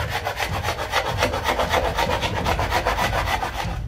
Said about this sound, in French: Je gratte l'excédent de colle après qu'elle soit sèche.